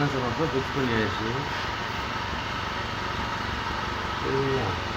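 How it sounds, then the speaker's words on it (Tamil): Hyundai i10 engine idling steadily and fairly quietly after its silencer was fixed, a continuous low hum with someone talking over it at times. "இப்போ இன்ஜினுடைய சவுண்ட் பாருங்கள், சைலன்சர் மட்டும் ஃபிக்ஸ் பண்ணியாச்சு."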